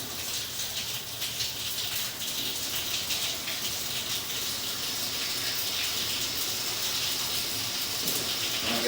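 Water runs steadily into a stationary laundry tub off the kitchen of a house in Deer Park, Ohio, making a continuous, even gushing hiss with no talking.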